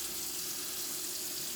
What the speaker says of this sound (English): So I'm washing the potatoes